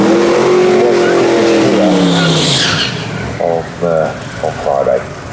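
A street-legal drag race car at a UK drag racing event accelerates hard, a loud rising engine roar with tyre squeal, fading away as a commentator talks over the sound.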